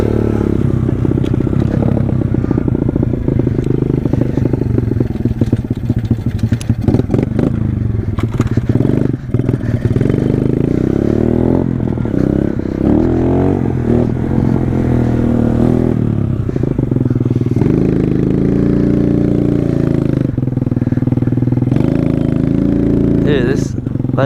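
A pit bike engine chugs and rattles continuously at close range on a wet outdoor trail, with clattering and scraping mixed in and occasional surges in revs throughout.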